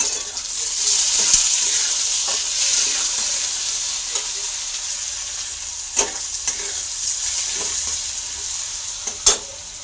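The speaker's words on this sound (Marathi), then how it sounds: "कांदा मऊ शिजेपर्यंत भाजायचा आहे. आता या कांद्यामध्ये आपण एक छोटा टोमॅटो चिरलेला तो टाकूया." Onion and chopped tomato fry in a pan for a radish pod curry, giving a continuous close sizzle broken by a few sharp spoon scrapes and taps, with no voices.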